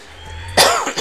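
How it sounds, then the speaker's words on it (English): A single sharp cough bursts out close to the microphone after a short quiet stretch, trailing into a brief throat-clearing rasp. "Sorry if I'm coughing in your ear."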